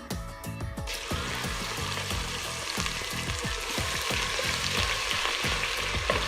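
Crushed ginger and garlic sautéing in a pan for chicken korma, a dense continuous sizzle with rhythmic stirring scrapes, close and loud throughout.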